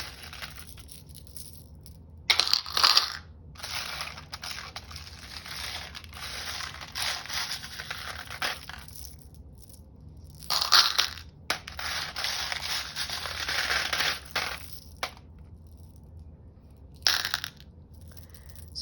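Seed beads rattle and clatter inside a shaker card in several bursts of rough, crinkly shaking, close and fairly loud, separated by quieter pauses, with no talking.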